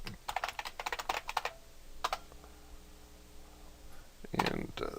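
A terminal command typed on a computer keyboard: a quick run of close, crisp key clicks for about a second and a half, then a few isolated taps and a louder burst near the end, with no talking.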